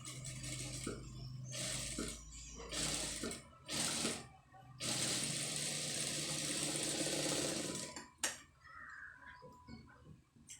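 A sewing machine stitches embroidered blouse cloth nearby, running in steady mechanical bursts broken by short pauses and a few light clicks.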